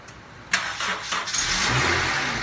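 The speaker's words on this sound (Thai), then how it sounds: "ลองเลยครับพี่ เดี๋ยวมาดูกันว่าติดไม่ติดครับผม รถจอดไว้หนึ่งอาทิตย์เต็ม" A car that has sat unused for a full week, jump-started with a power bank, cranks briefly, then catches and settles into a steady, close running engine.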